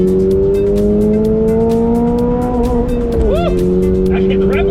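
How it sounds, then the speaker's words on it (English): A 2022 Toyota GR86 on a race track, its engine climbing in a sustained loud drone with tire squeal and a rising pitch sweep, the revs pinned briefly against the limiter. "Actually hit the rev limiter for once."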